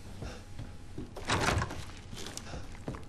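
Doors opening and thudding shut in the video game Resident Evil 7, a few soft knocks and one heavier thump in the middle over a faint low background, fairly quiet and without talk.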